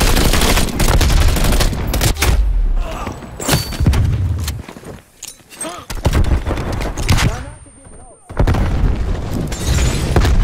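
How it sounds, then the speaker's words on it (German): Call of Duty Black Ops Cold War multiplayer combat: loud, dense gunfire and heavy booming blasts from a grenade explosion, a quieter gap midway, then another burst of shooting, with brief game voice lines mixed in. "Werfe Granate."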